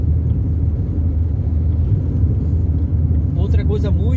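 Constant low cabin rumble of a car cruising on a highway at roughly 70 to 80 km/h, loud and even, with a faint passing whoosh near the end.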